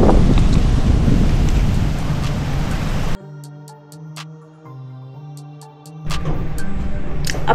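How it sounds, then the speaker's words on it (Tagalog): Strong wind from Typhoon Uwan in Vigan City roars steadily outside, with rain mixed in; the gusting drops away briefly midway behind a tonal hum and clicks, then returns at full strength. "Super lakas pa rin ng hangin"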